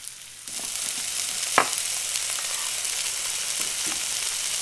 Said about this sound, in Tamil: கிரீன் சில்லி சாஸுங்க, இதையும் போட்டு 2 நிமிஷம் நல்லா வதக்குங்க